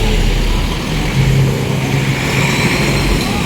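Heavy road traffic in Barangay Marasbaras, Tacloban, with engines droning and revving close by, a continuous loud mix of passing vehicles.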